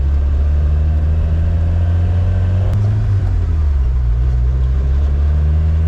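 A lifted Suzuki Samurai with its stock 1.3L engine drones low and steady while driving on 33-inch tires, heard from inside the cabin with a slight dip in pitch partway through and no talk.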